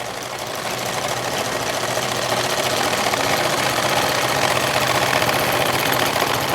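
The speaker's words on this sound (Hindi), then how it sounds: "तो आधा इंची पर आप सिलाई लगा दीजिएगा।" Close, loud steady whirring and rapid clatter of a sewing machine running continuously as it stitches a simple blouse hem, with no talking.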